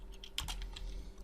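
Brief burst of typing on a computer keyboard, a handful of close, crisp key clicks in quick succession with a denser cluster in the middle, heard alone with no talking.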